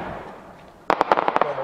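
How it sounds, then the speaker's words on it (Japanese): A rapid-fire Japanese festival fireworks display, Tenku no Hana Part 1, sends about eight sharp, loud bursts cracking in quick succession after a short stretch of low, murky background rumble. "今速射で天空の花パート1をお楽しみいただいております"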